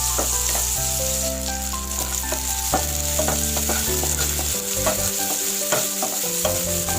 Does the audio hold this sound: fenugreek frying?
yes